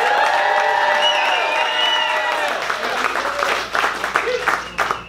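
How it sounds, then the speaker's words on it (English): An improv show audience cheers and claps for a performer, a wash of applause rising under and after a voice heard over the room at the start. "can I just hear a good old round of cheering for Blake real fast?"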